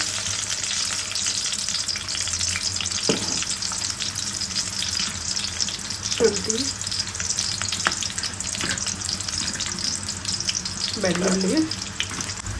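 Onions fry in oil for trotter soup, a steady loud sizzle throughout, with a few scraping stirs of a utensil in the pan and no voice.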